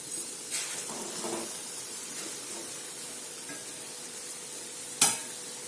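Cut boiled eggs are stirred into masala frying in a pan, giving a steady soft sizzle with scraping stirs and a sharp clack near the end.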